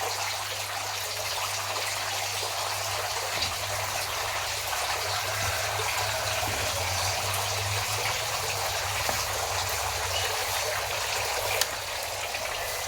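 Water falls continuously into a garden water feature like a small waterfall, making a steady, even gushing rush that carries on without a break, with a low hum underneath.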